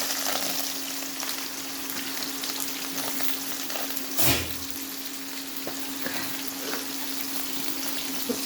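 Chopped onion, green chilli, ginger and curry leaves hit hot oil with mustard seeds in a pan for beef curry, giving a steady loud sizzle with a brief burst of added ingredients midway, no voices.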